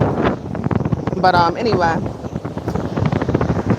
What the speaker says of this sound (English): it has been really damn windy this like entire trip